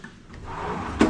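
A drawer in a hotel room being pulled open, a brief wooden slide that ends in a knock, close and fairly loud with no speech.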